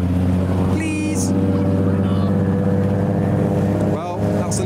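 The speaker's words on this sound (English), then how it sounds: "Well, that's a nice idle from you" A car engine idles steadily at a car meet, a close, loud low rumble with light revving, while a voice briefly speaks over it.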